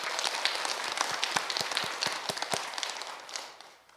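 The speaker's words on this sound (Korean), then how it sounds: "우리 하나님께 감사와 영광의 박수 올려드리겠습니다." A church congregation claps together during a Sunday Christmas-season worship service, a dense patter of many hands that swells and then fades out toward the end.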